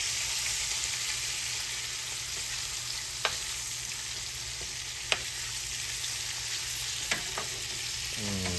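Turkey wings fry in a pan with a steady, even sizzle, broken by a few sharp clicks as the pieces are turned over.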